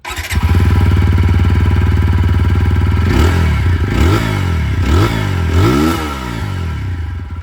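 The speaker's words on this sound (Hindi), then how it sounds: "चलिए दोनों ही बाइक की यहाँ पर जो एग्जॉस्ट साउंड है वो मैं आप लोगों को सुनाना चाहूँगा" A TVS Apache RTR 160 4V motorcycle idles with a loud, throbbing exhaust, then is revved hard four times, each rev rising and falling before settling back to idle.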